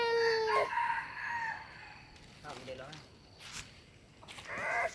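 A rooster crows loudly and up close at the start, followed by scattered clucks and faint shuffling, with a second crow rising near the end, all over soft outdoor background noise.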